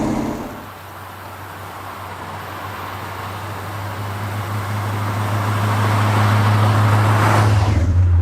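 A 1966 Chevrolet Corvette C2's 327 V8 idles with a deep rumble, then its revs rise gradually to a louder roar near the end, heard up close with no speech.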